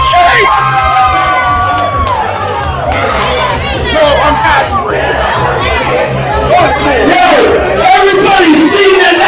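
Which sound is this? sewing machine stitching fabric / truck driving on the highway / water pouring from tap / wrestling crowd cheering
wrestling crowd cheering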